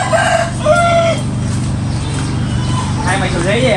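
A rooster crows in the background under loud, continuous talking, its call rising a few times through the chatter at moderate distance.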